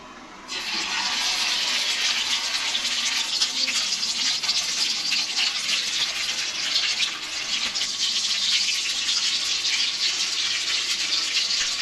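Fish pieces drop into hot oil on a tawa griddle and set off a loud, steady frying sizzle that starts abruptly and keeps going without a break, close up.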